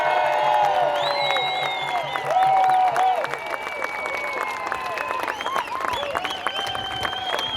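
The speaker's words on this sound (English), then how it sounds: "Put your hands together." A crowd at a protest rally in Sydney's Hyde Park applauds, cheers and whoops loudly and steadily throughout, with shrill whistles and calls rising above the dense clapping.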